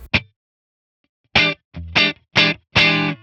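Electric guitar through a clean 1963 Fender Brown Deluxe amp capture with no reverb: a short plucked note, a pause, then four bright strummed chords in a loose rhythm, close and clear.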